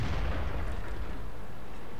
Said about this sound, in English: I keep shooting high explosive anti-tank